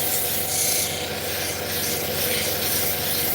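Steady, close abrasive rubbing of 1200 grit sandpaper polishing fire obsidian, a continuous even scrubbing texture with no pauses and no talk.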